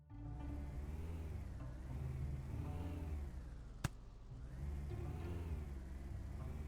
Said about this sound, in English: the little engine at the back's catching